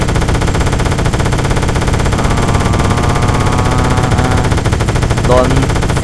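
Helicopter-mounted machine gun firing in ARMA 3, heard as a loud, continuous rapid rattle that runs through the whole stretch, with engine noise under it.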